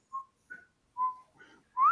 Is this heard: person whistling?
yes